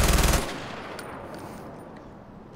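Rapid machine-gun burst in Far Cry 4, a loud stuttering volley in the first half second that gives way to a lingering noisy rumble and faint distant rattles.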